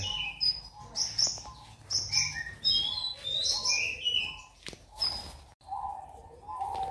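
Caged singing doves in an outdoor aviary chirp and call repeatedly, several birds overlapping with bright tweets, while crickets or other insects buzz steadily in the background.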